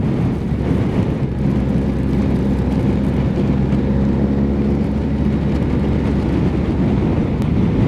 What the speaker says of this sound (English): Whoa, that's windy